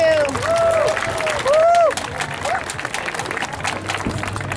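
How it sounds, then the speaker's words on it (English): Audience applause at the Pistahan opening ceremony in San Francisco, a steady broad wash of clapping and crowd noise sustained throughout, with a voice briefly calling over it. "Let's give them another big round of applause."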